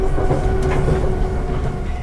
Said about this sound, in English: We got trains all over the place.